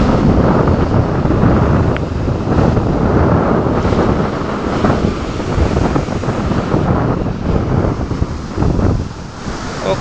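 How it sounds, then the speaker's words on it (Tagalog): Strong wind gusting outdoors, loud and continuous, buffeting the microphone with a roaring rumble and hiss that barely eases for the whole stretch, with no speech. "Lakas ang hangin."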